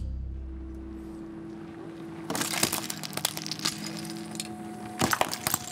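Engine hum runs steadily under the scene, then an object being run over by a vehicle cracks and shatters in sharp crunching bursts, first a long cluster and later a second loud snap, with no voices.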